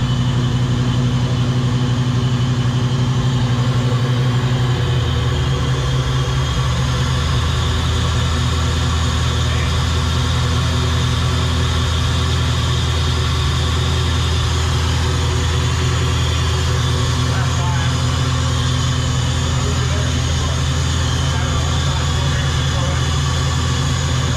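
A Foxbody Mustang GT V8 running steadily with a deep, continuous low rumble that drops in pitch after the first few seconds, loud and close throughout.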